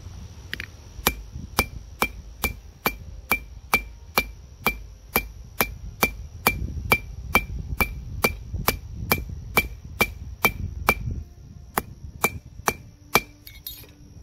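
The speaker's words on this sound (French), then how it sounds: "on va essayer de frapper notre pièce" A hammer strikes a bronze coin blank in repeated sharp metallic clinks, around thirty evenly spaced blows with a bright ringing tone over a faint background rumble.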